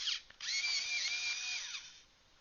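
A TaskBiiz electric pencil sharpener whirs as it grinds a pencil, starting after a brief buzz and running at steady volume for about a second and a half. Close by and loud, then it cuts off and the room goes quiet.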